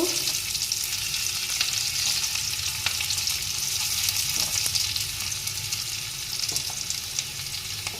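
Onion frying in a pan for a chital fish curry, a steady close sizzle with scattered faint clicks of stirring, continuous throughout without speech.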